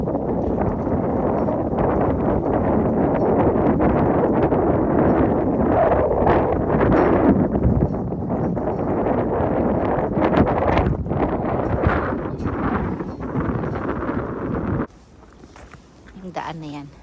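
Cold wind buffets a microphone on a high lookout above a sea of fog near Zurich, a loud, ragged roar with gusts that drops away sharply near the end, under continuous talking.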